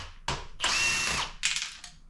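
Power drill spinning out the four 8mm bolts on an engine's valve cover, in three short bursts close by, the longest whirring for about half a second, with ratchet-like clicks and no talk.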